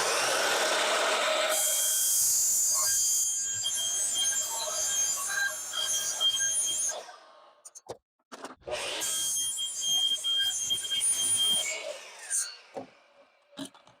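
Saw slowly cutting vinyl corner trim pieces for a backyard shed build, a loud sustained high-pitched whine in two long passes separated by brief pauses and a few short bursts near the end.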